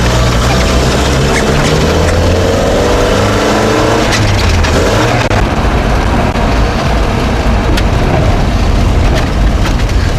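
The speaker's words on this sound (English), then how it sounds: "I'm just going to disappear up the drive now and try and just run through all 4 gears" A Volvo PV444 with a B16 engine, once rallied, pulls away through its four gears, a loud, steady engine drone that rises in pitch with each gear before dropping back at every shift, heard close up with no talking.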